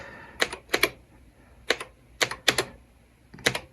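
Keys clack on an MSX retro computer keyboard with sticking keys, sharp close keystrokes in uneven pairs and singles, about nine hits with quiet gaps and no talking.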